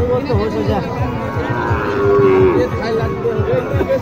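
Cattle moo repeatedly, close by and loud, at a rural livestock market in Niamatpur, Naogaon, where sold crossbred bulls and calves are tied up, with a crowd chattering underneath.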